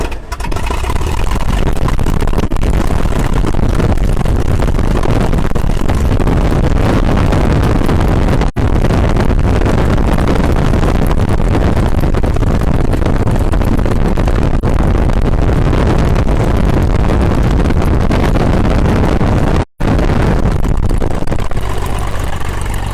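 The propeller engine of an O-1 Bird Dog airplane runs loud and steady, a dense roar with heavy wind buffeting throughout and one brief dropout near the end.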